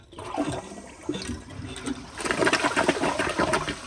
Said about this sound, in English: I'm gonna go ahead and flush it, and let's see if this flushes like it would with all original parts